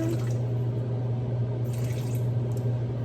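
Vinegar pours from a wide spout into a container in a home kitchen, a faint, soft continuous trickle over a steady low hum.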